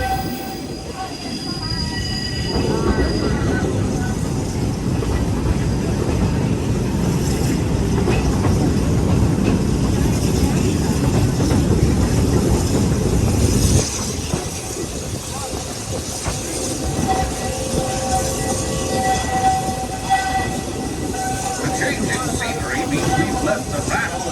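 A Walt Disney World railroad train rolls along the rails from Frontierland toward Tomorrowland with a heavy, continuous rumble and clatter, wheels squealing faintly, then the noise shifts and eases partway through.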